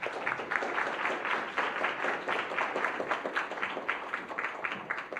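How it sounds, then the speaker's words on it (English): Audience applause at a tech summit, a moderate patter of many hands clapping with uneven rhythm, fairly distant and steady for several seconds. "Let's give them one more round of applause."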